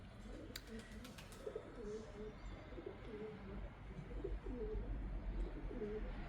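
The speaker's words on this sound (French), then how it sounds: "regardez tous les pigeons qui sont là" Pigeons coo on a flower-filled balcony, soft repeated low burbling calls in a steady rhythm, close by and fairly quiet, with a few brief high clicks early on.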